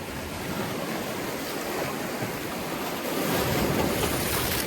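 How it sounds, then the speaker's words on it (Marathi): Ocean waves wash onto the beach at Alibag in a continuous broadband rush mixed with wind, swelling louder toward the end, with no voices. "नाही छोटी लाट पण चालेल. आले"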